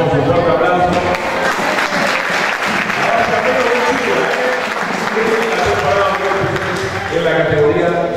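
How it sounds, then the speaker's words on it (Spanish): A youth football league's awards ceremony crowd applauds loudly and steadily, a dense wash of clapping mixed with voices and crowd noise throughout. "Le damos un fuerte aplauso."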